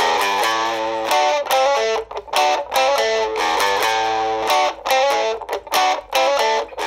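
A Loog guitar plays distorted chords and riffs through its built-in amplifier speaker, a loud, steady run of strummed phrases with brief gaps between bursts, with no talking.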